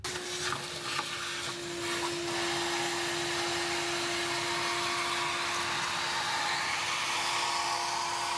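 A loud, steady vacuum cleaner roars without pause inside a Chevrolet Camaro's trunk, a constant droning whine with bits of rattling debris being sucked up close by.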